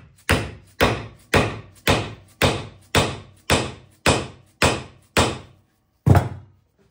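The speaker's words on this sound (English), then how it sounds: "You're better off hitting it more times than hitting it harder less times" Eleven sharp, evenly spaced hammer blows ram wax into a traditional spolette time fuse, each a solid thunk with a quick decay, the last after a short pause; close and loud with no talking.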